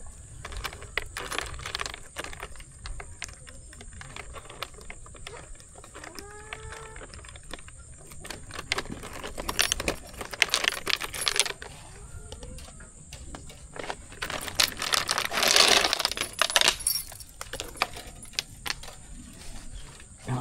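Metal keys jangle and clink in scattered bursts while being taken out to unlock a rain-soaked peacock pen on a small farm, with a louder rattling flurry near the end; no one speaks.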